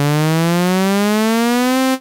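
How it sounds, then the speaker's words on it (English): A buzzy synthesizer riser tone made in Vital slowly rises in pitch for about two seconds, loud and steady, then cuts off abruptly. "this is the basic setup of a riser"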